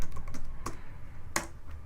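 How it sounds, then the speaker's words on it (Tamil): Keys clatter on a computer keyboard as a name is typed, giving a few sharp, close taps separated by short pauses, with no talking. "நான் ஒரு நேம் டைப் பண்ணுறேன்"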